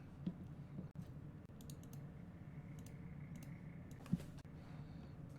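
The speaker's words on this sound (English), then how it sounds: "I was just typing out GGs." Quiet clicking of a computer keyboard being typed on, soft irregular keystrokes with a couple of sharper taps, close and faint with no talking.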